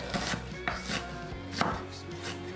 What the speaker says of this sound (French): je vais commencer par émincer un oignon que je vais faire revenir dans une poêle